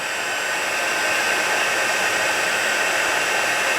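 A hot-air heat embossing tool blows steadily, a loud, unbroken broadband whoosh close by that holds constant for the whole stretch with no voices.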